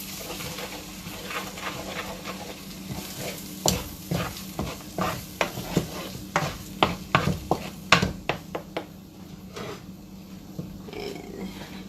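Homemade chorizo sizzles in a pan while a utensil stirs it, scraping and knocking in a quick, irregular series of loud strokes over a constant frying hiss, close by and with no voices.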